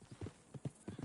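Horse hooves clip-clop in a quick, uneven rhythm in the video game Red Dead Redemption. Several close, crisp strikes come in pairs at a walking pace, with a faint neigh-like tone mixed in.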